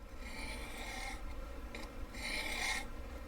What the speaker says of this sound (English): make sure that you're holding constant pressure on the sharpening rod